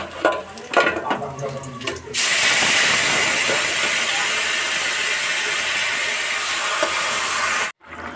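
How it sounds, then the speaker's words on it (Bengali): A pressure cooker cooking dal lets out a loud, steady steam whistle that hisses for about five seconds, then cuts off abruptly. Softer kitchen clatter comes before it. "ওইদিকে ডালটাও সিটি পড়লো"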